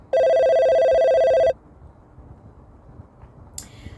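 A telephone rings once in a steady electronic tone lasting about a second and a half, then cuts off into quiet room noise, with a brief click near the end.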